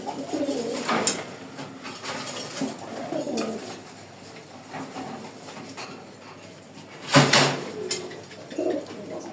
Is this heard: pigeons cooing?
yes